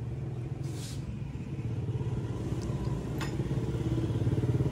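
An X1R motorcycle engine runs steadily after starting, a close, even low rumble with rapid pulsing, a couple of faint clicks on top.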